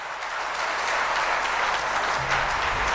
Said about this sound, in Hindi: इनके लिए एक जोरदार ताली लगाई।